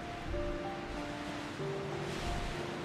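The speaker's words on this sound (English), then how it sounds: "Waves crashing in the darkness." Dark video game shoreline where waves crash unseen, heard as an even, unbroken surf wash with faint droning tones beneath and no speech.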